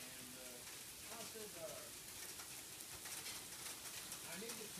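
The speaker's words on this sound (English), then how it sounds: "And it is rainy outside." Rain falls outside in a dense, steady patter, with faint birdsong and some soft voices mixed into the background.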